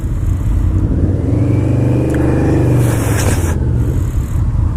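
A 2005 Yamaha V-Max motorcycle engine rumbles steadily nearby, a deep continuous drone at a fairly even pace with slight swells and no speech.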